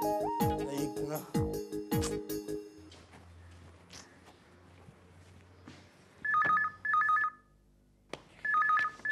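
Telephone ringing in a home, repeated electronic ring bursts after earlier voices, three distinct trills separated by short silences.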